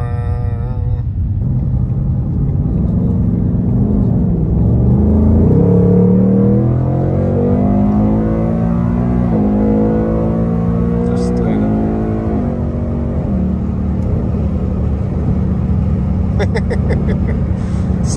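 A 2021 Ford Mustang Mach 1 accelerates up a highway on-ramp, its engine note climbing steadily through rising gear sweeps into a loud, sustained rumble from inside the car, with talk over it.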